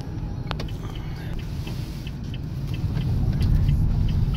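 A 2019 Renault Kangoo EV electric van driving, a steady low road rumble and tire noise that gradually grows louder, with faint ticking and rattles above it and no engine note.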